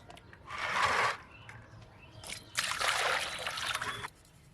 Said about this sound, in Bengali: এখন গামলাতে তুলে আরও কয়েকবার ধুয়ে নেব